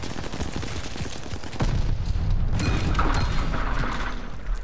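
Heavy gunfire and booming impacts from explosive sniper rounds in a first-person shooter match, a dense rumbling volley swelling loud after a sharp opening crack and rolling on steadily to the end.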